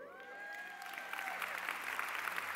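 An audience breaks into applause, a moderate spread of clapping that builds and holds steady, starting under a fading tonal sound and continuing to the end.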